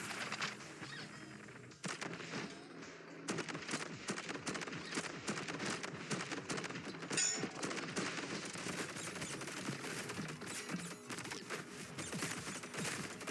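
Rapid, dense gunfire shooting at a bomber in the video game ODDCORE, a continuous rattling barrage running steadily for many seconds, loud and close with no talk over it.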